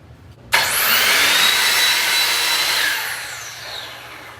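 Wood cutting machine slicing through a baseboard during a basement remodel: a sudden loud onset into a sustained high whining cut lasting a few seconds, then tapering as the blade winds down, heard alone.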